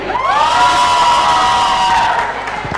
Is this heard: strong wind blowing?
no